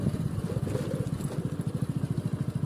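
A manual motorcycle engine labouring in low gear and needing an upshift, a close, loud, rapid chugging throb that pulses steadily with no talk over it.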